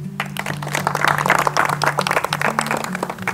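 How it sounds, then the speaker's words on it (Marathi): An audience at an MPSC quiz show held in a municipal study hall in Gopalnagar, Amravati, claps loudly in a lively, uneven burst, with faint voices underneath. "दादांसाठी एकदा जोरदार टाळ्या होऊ द्या"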